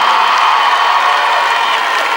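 A crowd applauds and cheers loudly for an 11-year-old boy from Kinshasa, making a dense, continuous roar of clapping and shouting that stays steady and close for the whole stretch.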